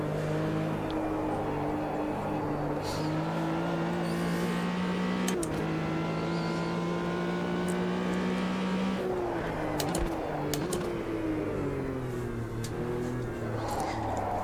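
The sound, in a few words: race car engine in video game Automobilista 2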